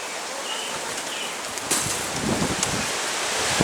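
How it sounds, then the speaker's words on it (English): Wind blows outdoors before rain, a steady broadband rush buffeting close against the microphone with gusty swells and faint rustling, no voices. "Ah, the wind's coming up."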